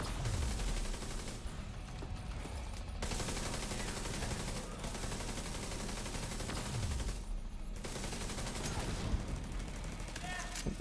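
Dense, sustained gunfire from The Division 2 fills the scene, a steady wall of overlapping shots with brief lulls, near and loud under occasional voices.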